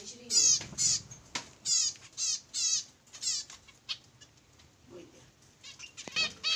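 Birds in an outdoor aviary colony, with repeated bursts of chirping and wing flutter coming in quick clusters, fairly close and moderately loud, with a brief voice between them.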